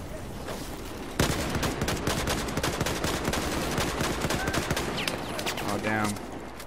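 Sustained automatic AK-12 rifle fire in Battlefield 4 at close quarters: steady rapid shots rattling for several seconds amid battle noise, fairly loud and continuous.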